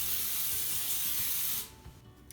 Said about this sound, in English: spray a little bit more baking spray on top of that